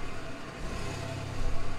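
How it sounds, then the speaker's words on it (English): A bus engine in the farming video game Stardew Valley gives a steady low rumbling hum with a slight rise near the end, close and fairly loud, with no voices over it. "Bus sounds."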